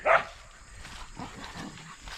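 A dog gives one short, close bark right at the start, then only quiet outdoor background remains. The setting is a fishing outing.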